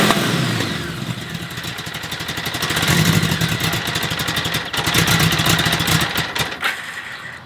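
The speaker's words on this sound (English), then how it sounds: "If I start the bike up for you here, this is cold startup and probably will fire up right away." A 1975 Honda GL1000 motorcycle cranks from cold and catches quickly, settling into a loud, steady idle with a slight throttle rise and mechanical clatter, recorded close by.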